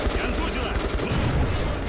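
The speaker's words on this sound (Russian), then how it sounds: "С чего они стреляют?" Rapid gunfire and explosions in the video game Metro: Last Light, a dense, continuous barrage of loud shots up close.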